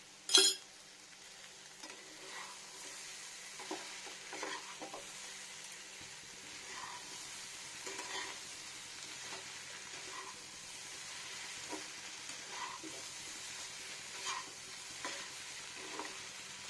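Raw pumpkin and fish roe fry in a pan, a low continuous sizzle with faint stirring clinks and scrapes recurring every second or two, fairly quiet and with no voices.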